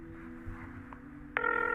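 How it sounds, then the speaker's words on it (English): A telephone starts ringing abruptly partway through, a bright electronic ring that sounds close and clear after a quiet stretch of low room hum, with no one talking. "sure enough, as I was packing,"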